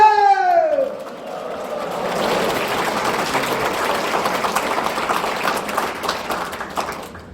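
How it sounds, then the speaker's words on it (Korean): Audience applause and cheering at a comedic laughter-therapy lecture, a crowd clapping steadily and fairly loudly after a brief vocal cry at the start, sustained through to the end. "자, 박수 치면서 잘한다!"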